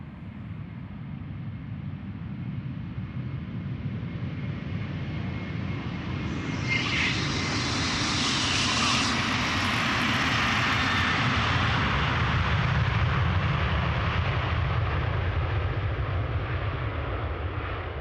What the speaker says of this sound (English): This is KLM flight 623.